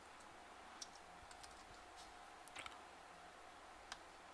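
Computer keyboard keys pressed in a quiet room, a few faint scattered clicks over low background hiss, with one sharper keystroke near the end and no speech.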